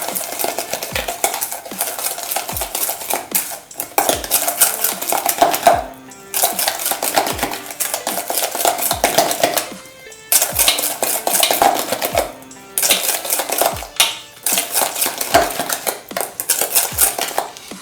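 Chocolate chip cookie dough being mixed by hand in a bowl: repeated scraping and clinking of a utensil against the bowl in steady stirring strokes with brief pauses between, close, with no talk.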